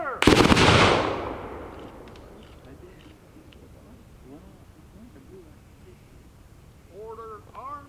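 A memorial ceremony firing detail fires a rifle volley at the start, one loud, sharp, near crack that rolls into a long fading echo, followed by quiet outdoor ambience and a voice speaking at the end.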